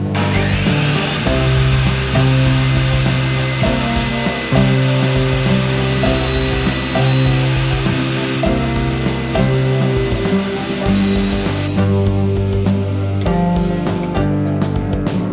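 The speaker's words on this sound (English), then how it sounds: "So now we cut the insulation." Power saw cutting insulation for a van subfloor, a loud, continuous buzzing and grinding drone that runs through the whole stretch with slight shifts in pitch, no talking.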